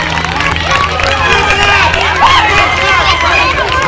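A crowd at a 2011 softball game cheers and shouts loudly and continuously, with many excited voices whooping and calling out at once.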